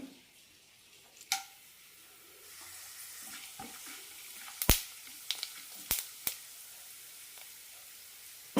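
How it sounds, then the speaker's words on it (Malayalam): Curry masala sizzles in two tablespoons of hot oil in a pan, a soft continuous frying hiss with a few sharp clinks and scrapes of a spoon against the pan. "പാനിലേക്ക് രണ്ട് ടേബിൾ സ്പൂൺ എണ്ണ ഒഴിച്ചിട്ടുണ്ട് ഇതിലേക്ക് കറി മസാല ഇട്ട് കൊടുക്കാം"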